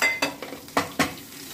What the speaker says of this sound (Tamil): இதை நல்லா வறுத்துக்கோங்க.